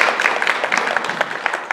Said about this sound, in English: She needs a round of applause for those observations.